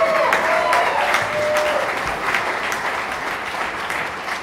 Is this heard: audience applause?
yes